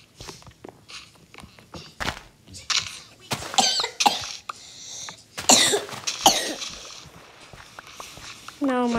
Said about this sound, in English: Did you just cough on me